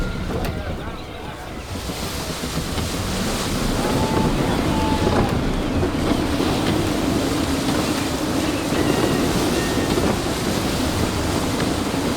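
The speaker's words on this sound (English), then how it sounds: "Wind looks to be shifting. Stay alert, Connor. Gusty winds can be difficult to manage." Gusty wind rushes over open sea aboard a sailing ship in Assassin's Creed 3, a steady loud roar of wind and surf that swells partway through, with faint voices underneath.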